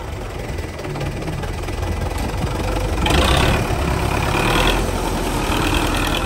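A tractor engine idles and works near a muddy track being cleared so a stuck car can be towed out, a steady low rumble that rises in intensity midway, with no speech over it.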